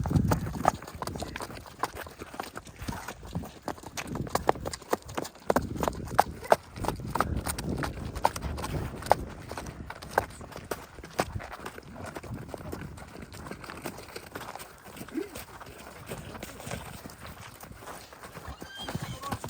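A Belgian draft mare's hooves clop unevenly on the ground amid rustling and shuffling, with occasional snorts and voices murmuring nearby.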